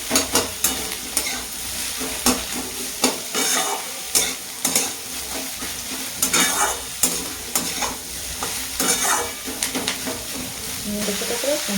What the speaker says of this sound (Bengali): একটু নেড়ে চেড়ে নিয়ে এবার পেঁয়াজ আর ফুলকপিগুলো একসঙ্গে দিয়ে দেবো